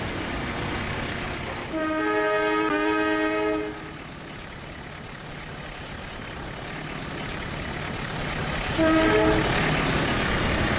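Train in the Trainz simulation game passing Surabaya station, a steady rumble of rolling wagons under two blasts of a multi-tone train horn, one long near the start and a shorter one near the end, with no speech.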